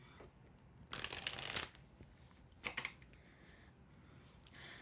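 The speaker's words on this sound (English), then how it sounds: "I am shuffling. I hope you enjoy my shuffling song." Tarot cards riffle in a quiet room, one longer burst of crisp flapping shuffles followed by a shorter second burst and a faint final rustle.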